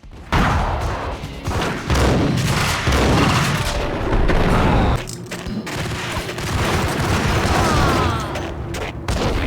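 Dense gunfire fills a Max Payne shootout, with loud overlapping shots and booming blasts in a continuous barrage that hardly lets up.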